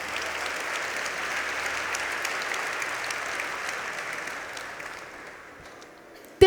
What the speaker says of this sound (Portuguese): Mas, pode dar uma salva de palmas para Jesus.